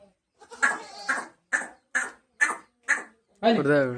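A pure Sirohi goat on a farm, a dairy doe nursing kids, gives a string of short, loud bleats close by, five or six sharp calls in quick succession ending in a longer wavering cry.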